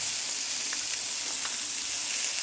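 Salmon fillet frying in a hot pan with peppers, a continuous bright sizzle with small crackling pops, close and steady throughout.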